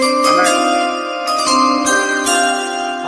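Metallic chimes ring with sustained overlapping tones, several struck notes sounding clearly and fairly loud throughout.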